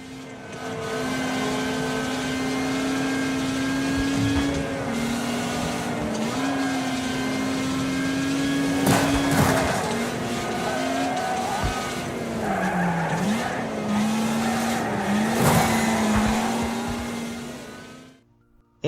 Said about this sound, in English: Wreckfest allowed me to take all those skills learned in previous games and maneuver a high-speed, unstable car with precision and accuracy